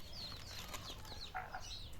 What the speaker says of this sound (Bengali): 5টা মুরগির বাচ্চা